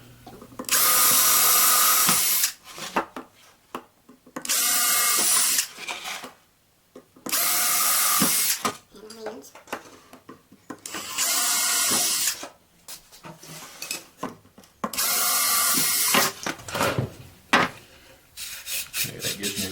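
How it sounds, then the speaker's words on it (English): A power drill with a bit bores into a wooden board during a jointer sled build for a table saw, in five or six loud bursts of whining, grinding drilling separated by short quiet pauses, with no talk. "I'll use a 30-second drill bit."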